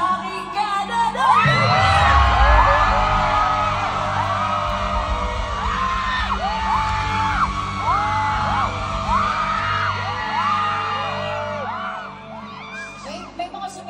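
A live concert crowd yells, whoops and cheers in loud repeated surges over a steady background of music, with scattered shouts rising above the mass of voices.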